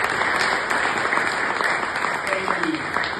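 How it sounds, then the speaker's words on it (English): A crowd applauds steadily with dense, even clapping throughout, a continuous wash of hands at fairly close range. "let's give him a round of applause"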